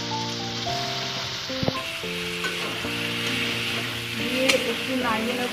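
Egg and fried potato pieces go into a sizzling spiced masala for an egg and masoor dal dish, with a constant close frying hiss and occasional stirring taps beneath background music.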